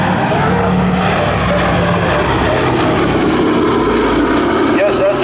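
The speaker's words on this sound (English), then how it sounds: "B-17G comes around from the left." A B-17G four-engine propeller bomber flies past at a World War II weekend air show, its loud, continuous droning engine roar filling the whole clip with a rising and shifting pitch.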